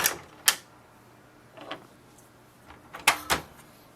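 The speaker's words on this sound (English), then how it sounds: "So open the ink cartridge chamber door." A Canon inkjet printer's ink cartridge chamber door is opened, giving a few sharp plastic clicks and clacks, with a couple of softer knocks between them in a quiet room.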